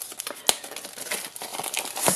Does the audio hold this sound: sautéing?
no